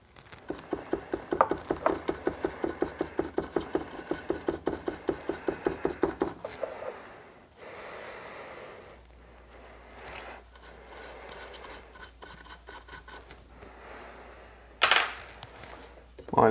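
A small brush scrubs soldered SMD component joints on a circuit board, starting with a quick, rhythmic run of close rasping strokes and then slowing to softer, irregular rubbing with a sharp knock near the end.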